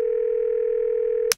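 A steady telephone dial tone hums continuously in a cartoon, loud and unbroken for over a second before cutting off abruptly with a short click.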